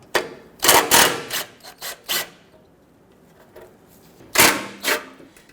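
Ratchet loosening 13 mm bolts on the skid plate of a 2006-2010 Hummer H3, a few short, close rasping clicks in quick bursts separated by quiet gaps.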